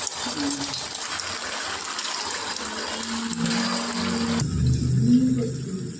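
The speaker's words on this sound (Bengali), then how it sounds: "এবার এই বলটাকে ভাজবে তেলে, তাই তো? ফেলিয়ে দিলাম।" Paneer kofta balls drop into hot oil and fry with a loud, steady hiss and bubbling sizzle that swells as they go in, close up, while a voice talks underneath.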